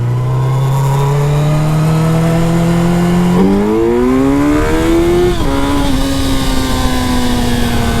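A Gen 1 Suzuki Hayabusa sport bike accelerates hard through first gear with the front wheel lifting, its loud, close engine note climbing steadily before a sharp gear change at mid-clip, then pulling on strongly. No one talks.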